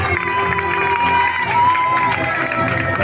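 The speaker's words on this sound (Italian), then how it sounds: "gli applausi per Marlene Reusser, Movistar Team." Crowd applause and cheering for a cyclist at the Giro d'Italia Women podium ceremony at the Valdobbiadene Pianezze finish, steady and loud throughout, with an announcer talking over it.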